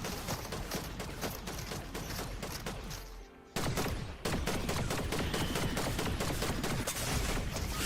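Rapid, continuous gunfire bursts in a Fortnite Zero Build match, with dense overlapping shots that briefly dip before resuming at full intensity.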